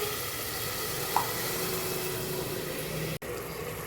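Tomatoes frying in hot oil in a home kitchen, giving a steady, moderately loud sizzle that runs unbroken, with a brief soft clink near the middle and a short dropout near the end.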